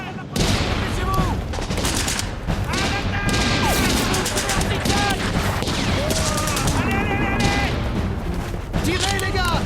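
Dense battlefield gunfire in a war film set at Stalingrad, with rapid machine-gun bursts and scattered rifle shots filling the whole stretch loudly, while voices shout over the din.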